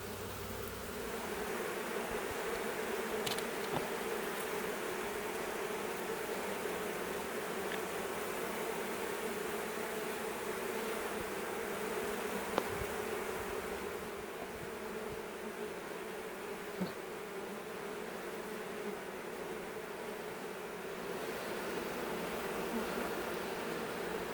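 Honeybees buzzing around a hive while they settle back inside, a dense continuous hum of many wings, steady and close, with no talking.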